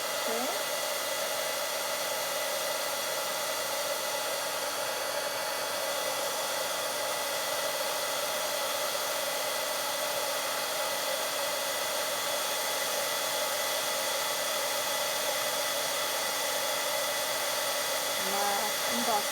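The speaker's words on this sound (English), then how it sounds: "let's play with this heat tool" A heat tool blows continuously for paper embossing, producing a steady, loud, close-up whooshing fan roar with a faint motor whine that runs unbroken from start to finish.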